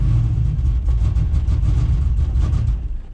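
A turbocharged LS engine in a Chevy C10 truck with Holley Terminator X fuel injection, revving roughly on a very cold start, a loud, deep, uneven engine roar that wavers throughout and eases slightly at the end, with no voices.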